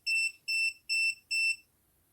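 A PeakTech P 5175 sound level meter beeps four times, each a steady, shrill electronic tone of about a quarter second, evenly spaced and loud, followed by quiet.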